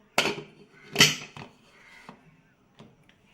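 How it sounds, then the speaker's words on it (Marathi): A few sharp metallic clanks and scrapes as a pressure cooker lid is fitted and locked, with quieter taps trailing off between them. "आता आपण कुकरचं झाकण लावू"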